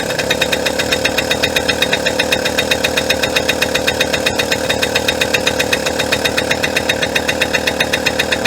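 A 1998 Suzuki JR 50 two-stroke engine runs steadily just after starting, a loud, continuous buzzing rattle with a fast, even pulse and no pauses or voices.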